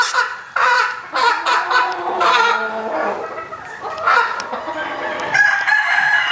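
A gamefowl rooster crows loudly and close by, with other chickens clucking around it; a faint voice may be present underneath.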